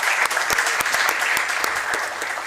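Strong applause from an audience at a book presentation, many hands clapping together in a thick continuous burst, loud and close with a few distinct claps cutting through.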